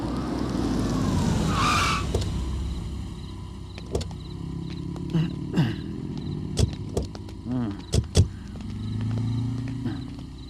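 A police vehicle pulls up and stops on a road at night, its engine rumbling and tyres skidding briefly near the start, followed by scattered thumps and clatters of doors and movement.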